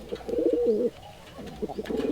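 Local Rajshahi Giribaj pigeons coo close by in low, rolling warbles, two clear phrases separated by a short quiet gap.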